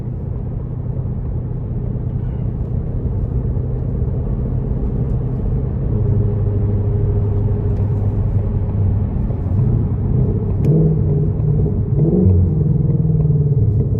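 A 2020 Shelby GT500 in sport mode gives off a loud, continuous low engine rumble from the cabin as light throttle is applied, with the tone rising and wavering slightly toward the end as it revs and shifts.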